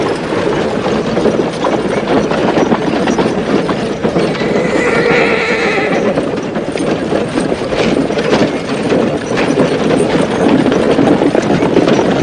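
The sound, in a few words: horses neighing and hooves clip-clopping in a western film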